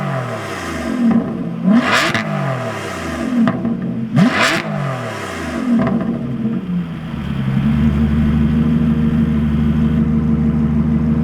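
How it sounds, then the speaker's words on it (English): An Aston Martin V12 Vantage S with its V12 engine, revved twice in sharp rising and falling blips, then settling into a steady, loud, rumbling idle up close. "take a quick listen to this glorious V12."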